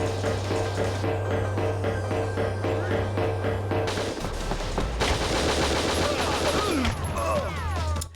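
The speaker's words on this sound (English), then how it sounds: "I gotta give that guard credit for dodging the gunfire" Rapid bursts of gunfire from the video game Winback crackle almost continuously over a droning game soundtrack, with shots repeating in quick rhythmic volleys throughout.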